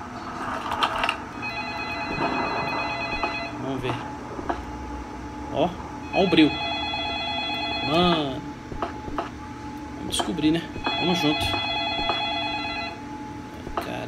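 Inside the FIND ME horror video game, a telephone rings in repeated electronic bursts, steady and moderately loud against a low room hum, while someone talks over it.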